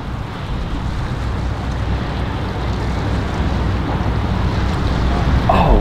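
A motorboat runs at full throttle through a channel by a new boat ramp, heard as a loud, steady roar of engine and rushing water mixed with wind buffeting the microphone, swelling slightly toward the end.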